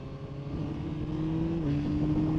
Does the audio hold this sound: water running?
no